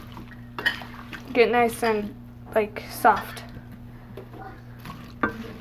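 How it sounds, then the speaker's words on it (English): Apples for a French apple tart are stirred in a pot, giving soft scraping and clinking from the utensil against the pot, with a person talking over it and a low steady hum beneath. "And now we're going to stir that, and you're going to put it on a boil for about 10 minutes"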